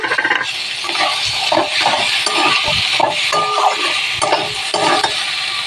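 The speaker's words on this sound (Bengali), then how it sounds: "গাজরগুলো কুচি করে রেখেছি গাজরগুলো দিয়ে দেব" Chopped carrots go into a hot pan for a bottle gourd greens and carrot chorchori, sizzling steadily with repeated stirring scrapes and utensil clinks against the metal, loud and close throughout with no talk.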